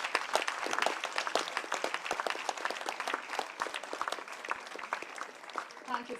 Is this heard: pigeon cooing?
no